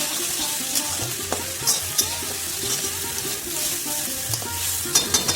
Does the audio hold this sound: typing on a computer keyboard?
no